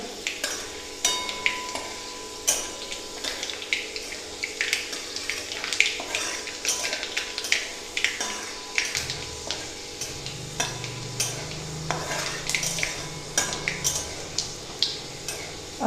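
Garlic and mustard seeds fry in a hot pan, a steady close sizzle with frequent sharp crackles and pops and scraping stirring, the oil hiss deepening partway through.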